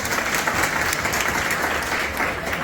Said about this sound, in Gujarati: એક જોરદાર તાળીઓથી વધાવી